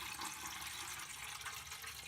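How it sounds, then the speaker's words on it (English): One liter of water is poured from a Nalgene bottle into a humidifier tank, a continuous close splashing rush that stays even and fairly quiet. "it's 1 liter of water going into the tank right now."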